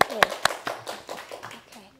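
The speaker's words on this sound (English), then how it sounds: "Please give them a big applause." A few scattered hand claps ring out in a classroom for a presenting student group, sharp and close at first, then thinning into lighter, irregular taps with voices mixed in.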